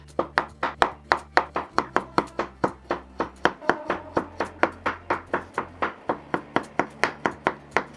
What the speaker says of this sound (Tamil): கத்தி வச்சுட்டு மெலிஸ் மெலிஸாக கட் பண்ண போகிறேன்